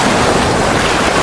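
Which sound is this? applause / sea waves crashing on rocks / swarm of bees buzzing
sea waves crashing on rocks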